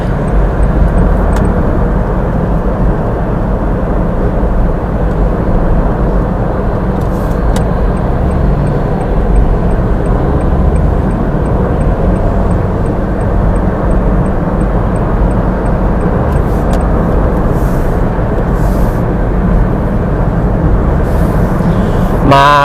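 A 2015 Honda Mobilio 1.5 RS seven-seat car with a 1,500 cc engine drives and accelerates, its steady road and engine rumble loud and continuous throughout with no talk.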